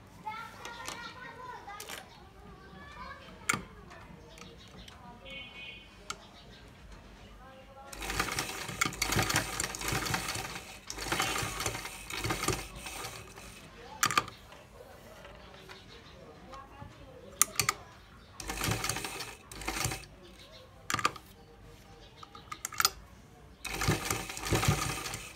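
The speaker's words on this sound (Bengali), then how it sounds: "তো আমি এখন সেলাইটা করে দেখাচ্ছি" A sewing machine stitches the hook-and-eye slot on a blouse, firing in loud irregular runs of rapid mechanical chatter separated by pauses, with quieter handling sounds in between.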